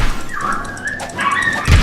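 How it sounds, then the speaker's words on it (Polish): Video game dogs from Cube World snarl, yip and whimper in a continuous fighting scuffle, loud and close, with a heavier thump near the end. "Ale słyszymy walkę psów."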